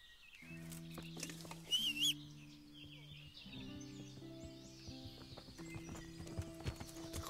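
Horse hooves clip-clop steadily in the medieval role-playing game Kingdom Come Deliverance, a quiet rhythmic trot with a brief whinny and game ambience around it.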